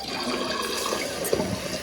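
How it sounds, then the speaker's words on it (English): Water rushes and gurgles steadily from a toilet tank being partly drained, a close, continuous draining wash with a small splash near the end. "And I like to just let out a little bit of water."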